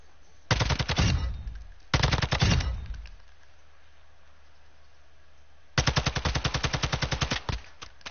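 Automatic gunfire from a weapon in the video game Warzone: two rapid bursts of about a second each, then a pause, then a longer burst of evenly spaced rounds, loud and close.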